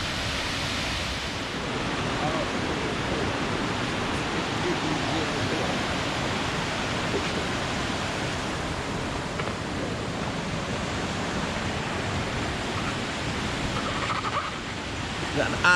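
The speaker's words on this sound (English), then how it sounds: "Torrs Mill. Waterfall." Steady broadband rush of a waterfall at Torrs Mill in the High Peak, a continuous even roar of falling water heard from nearby with no breaks.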